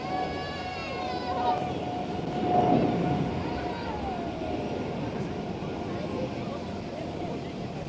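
Emirates SkyCargo aircraft taking off at Schiphol, a distant jet roar that swells to a peak and then settles into a steady rumble, with a thin whining tone and a voice talking over it.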